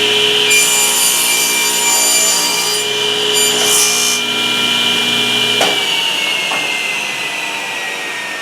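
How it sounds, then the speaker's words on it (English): Table saw crosscutting wood on a sled, a loud steady whine of the spinning blade with the grinding rasp of the cut running throughout, then the motor note dropping as it winds down near the end. "let's go ahead and show you how to use the table saw sled"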